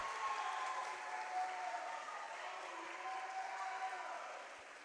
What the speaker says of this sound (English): you could hear the Newman crowd getting into it